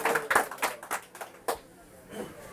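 A church congregation claps in a short, uneven burst of separate hand claps that fade out after about a second and a half, fairly close and modest in volume.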